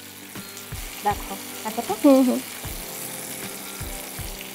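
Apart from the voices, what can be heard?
catla fish frying in a pan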